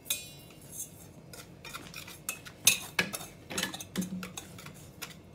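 A spoon clinks and scrapes against a bowl while wheat flour batter for banana bajji is mixed, giving quiet irregular taps and knocks, close by and with no talk.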